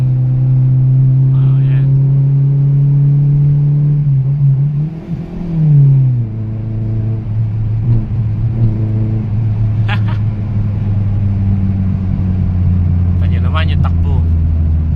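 A big-body car rolls along on a test drive after an engine tune-up, its engine rumbling steadily with a brief rise and fall in revs, heard from inside the cabin while people talk over it.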